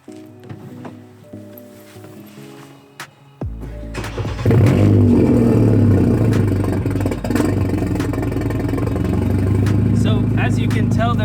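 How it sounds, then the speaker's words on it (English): A BMW F30 328i with a modified exhaust cranks and fires up after a few quiet seconds, flaring loudly, then settles into a deep, slightly uneven rough idle that rumbles on close by. "there's a bit of a weird idle issue"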